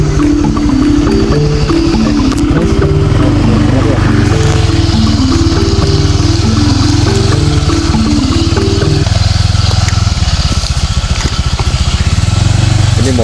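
A motorcycle engine runs up close in a forest setting with a loud, continuous mid-pitched drone and a throbbing pulse that wavers in pitch, while people talk over it.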